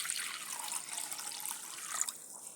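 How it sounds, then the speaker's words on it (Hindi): Water pours into a cooking pot in a home kitchen for a medicinal soup, a soft steady splashing trickle heard close and alone for a couple of seconds. "पानी डाल देंगे इसमें।"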